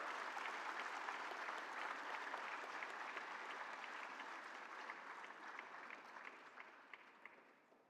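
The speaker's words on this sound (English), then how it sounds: "A big round of applause." Crowd at India Startup Fest 2023 in Muddenhalli applauding a contest winner, a broad sustained wash of clapping that holds evenly, then slowly thins and fades toward the end.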